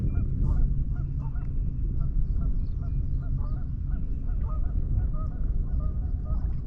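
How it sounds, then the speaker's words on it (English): Disturbed geese honk repeatedly from a short distance over water during a kayak catfishing outing, a chorus of loud nasal calls repeating over a low steady rumble. "We've disturbed them geese back there. Now they're mad. Yeah, they're pissed off. They're gonna let us hear it."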